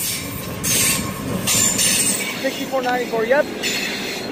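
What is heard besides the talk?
EMD diesel locomotive train passing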